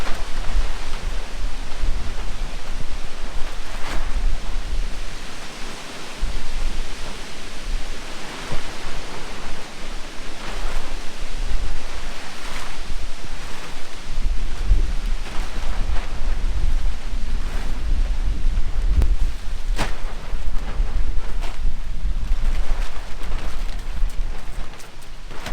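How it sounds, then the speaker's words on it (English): Strong wind during Cyclone Gabrielle buffets a farm in a steady roar of broadband noise, with deep rumbling gusts against the microphone and no break through the whole stretch. "That wind's definitely increased quite a bit. It's pretty windy out here"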